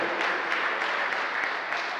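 A crowd claps for the second-division youth players of a football team presentation, an even wash of applause with no clear voices.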